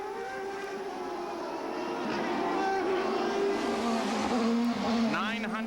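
900-horsepower CART race cars on a wet Vancouver street circuit in 1999 scream past in a sustained high-revving engine roar that rises and shifts pitch, with a commentator talking over it.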